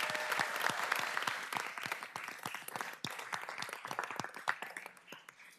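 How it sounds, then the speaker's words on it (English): A city council meeting audience breaks into warm applause to welcome a speaker, a dense, lively patter of many hands that holds steady and then slowly thins toward the end. "Can I just have a round of applause to welcome Jenny in?"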